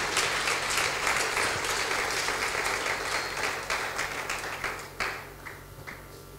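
A church congregation breaks into a burst of applause that fills the room, then thins out and fades to scattered claps near the end.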